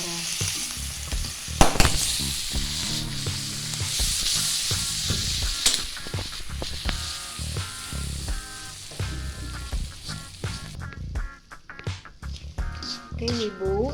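Salted squid stir-fried with salt, stock powder, seasoning and palm sugar in a pan, a continuous loud sizzle with scraping stirs and spatula knocks, close by, with a voice speaking over it.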